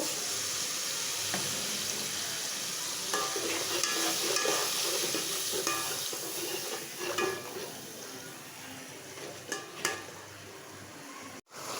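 Spiced potatoes with bay leaf, garam masala and ground coriander sauté in a pan with a little water, a continuous sizzle broken by intermittent stirring scrapes and taps.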